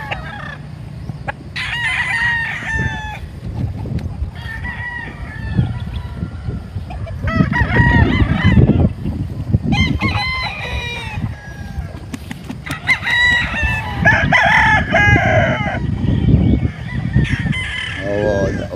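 Several roosters crow repeatedly, near and far, over clucking chickens and a steady rumble on a large breeding farm.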